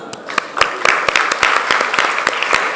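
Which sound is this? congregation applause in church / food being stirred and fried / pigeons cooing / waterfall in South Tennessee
congregation applause in church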